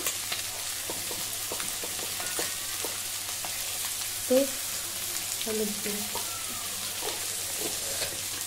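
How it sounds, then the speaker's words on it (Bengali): Soybeans fry in a pan with turmeric and salt, giving a steady, faint sizzle with a few soft clinks and stirring sounds scattered through it. "হলুদ গুঁড়ো আর নুন দিয়ে দিলাম। ফ্রাই করে নেব।"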